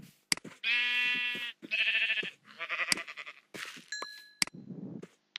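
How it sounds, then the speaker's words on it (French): Sheep in a Minecraft game bleat several times in a row, loud and close, with short clicky game sounds and a brief ding between the calls. "je vais tuer 6 moutons"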